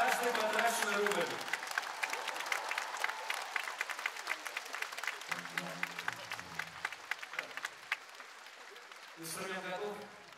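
A concert audience at the Kremlin breaks into applause, dense clapping that swells and then thins out over several seconds, with a voice speaking before and after it.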